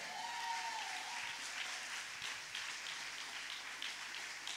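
A congregation applauding during a French-language church service, a steady patter of clapping from many hands, moderately distant, with no break.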